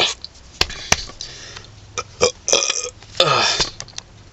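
A wet burp from a person, a series of gurgling belches building up over several seconds, loud and close, with a longer rough burst near the end.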